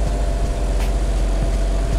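A 2015 Audi SQ5 idling, its exhaust giving a steady low rumble with a constant hum, close and fairly loud throughout with no voices.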